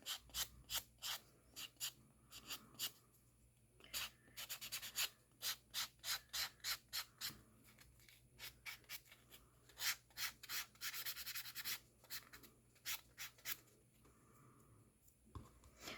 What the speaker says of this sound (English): So you're just going to sand it down.